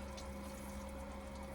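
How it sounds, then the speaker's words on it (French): Electric water pump runs for a shower inside a campervan, a steady faint hum with a constant tonal whine over soft water hiss, continuous with no voices. "la pompe elle marche bien"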